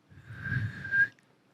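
A person whistles a single sustained breathy tone to imitate the wind, brief and close, with a soft airy rush underneath.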